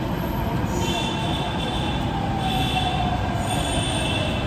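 A metro train at Karol Bagh metro station rumbles steadily and loudly throughout, with high wheel squeals rising and falling over the continuous roar, close by and with no clear talk.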